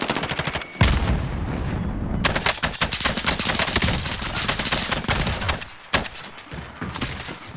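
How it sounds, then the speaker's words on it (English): Rapid automatic gunfire bursts in a battle royale shooter game, loud and close, with dense rattling volleys, a brief pause, then sustained firing and a few heavy thuds, and no speech over it. "Receiving hostile fire."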